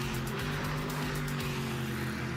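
Chevrolet Camaro on a quarter-mile run, a distant engine roar that holds steady and drifts, with no voices over it.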